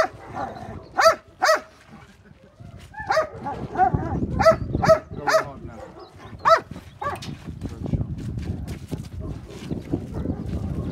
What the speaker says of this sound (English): Okay, this dog is a guard dog.